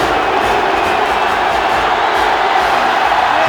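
A stadium crowd roars and cheers steadily in the college football video game NCAA Football 06, a dense, loud wash of voices during a Troy at South Carolina game.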